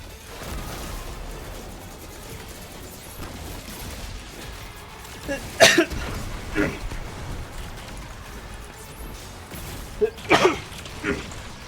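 A couple of short, sharp coughs break through a quiet background, spaced several seconds apart.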